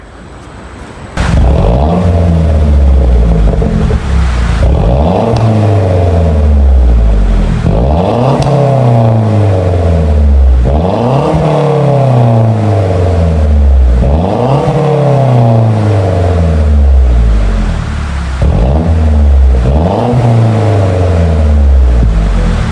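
A turbocharged 2.3-liter inline four-cylinder car engine revs up repeatedly, about six loud, rising-and-falling surges at a steady rhythm, heard up close with no talking.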